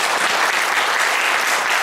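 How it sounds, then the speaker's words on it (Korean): Dense, steady applause from a church congregation during a Sunday service, filling the whole stretch at an even loudness with no pause. "박수 한번 쳐주세요"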